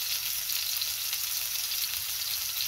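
Ground beef, a little over a pound, frying in avocado oil in a pan, giving a steady, close, continuous sizzle throughout with no talking.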